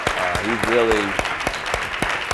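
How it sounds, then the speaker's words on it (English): Applause from an audience at a Dream Corps gathering, a steady patter of clapping beneath a voice talking over it close by. "Give Michael Mendoza a big round of applause."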